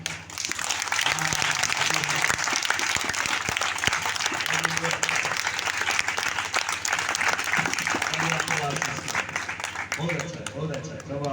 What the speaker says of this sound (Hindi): परमेश्वर के लिए कैसे ताली बजाएंगे?